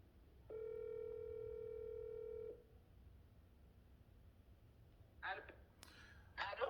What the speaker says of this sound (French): nous allons essayer d'appeler Madame Chantal Kinzonzi